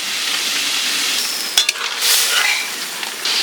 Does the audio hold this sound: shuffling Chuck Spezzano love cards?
no